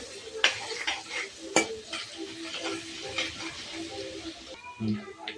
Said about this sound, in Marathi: त्यात आता आपण लसूण टाकूया लसूण चांगला तळून घ्यायचा